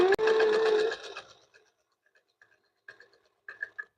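A sewing machine fitted with a walking foot stitches quilt binding in one close, loud, steady whirring run. It then stops, and a few soft ticks and clicks follow.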